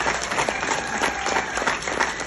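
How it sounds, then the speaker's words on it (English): Audience applause for festival volunteers before a comedy screening: dense, steady clapping from a crowd that fills the whole stretch at an even, fairly loud level, with scattered voices mixed into the applause. "please join me in a round of applause for our amazing festival volunteers"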